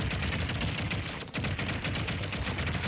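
Dense, rapid gunfire rattles continuously and loudly in a Super Smash Bros. Ultimate World of Light match on Nintendo Switch, with only a brief dip near the middle.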